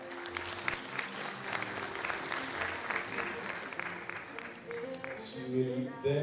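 An audience at an international relations and diplomacy career forum gives a faint but continuous round of applause lasting several seconds, with murmured voices and a brief voice rising near the end.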